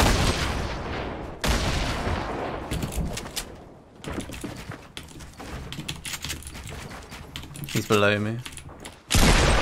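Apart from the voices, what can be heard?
gunfire in Fortnite video game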